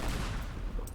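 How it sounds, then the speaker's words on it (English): A bridge blows apart under a huge car bomb in the destruction game Teardown, a dense, continuous rumbling roar with crackling debris, loud and close throughout the second with no talking. "let's have a look at this bridge exploding with the MOAC"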